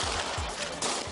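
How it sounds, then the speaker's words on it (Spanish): Gunfire in an embassy siege shootout as authorities shoot their way in: a short, muffled run of repeated shot bursts over a dense, noisy background. "En el exterior, las autoridades tratan de abrirse camino a tiros."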